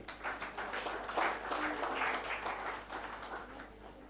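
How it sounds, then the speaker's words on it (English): Audience applause at a debate academies awards event in Uganda, a steady, dense patter of many hands clapping together, fairly distant and sustained throughout with no talk over it. "Can we clap hands for ourselves?"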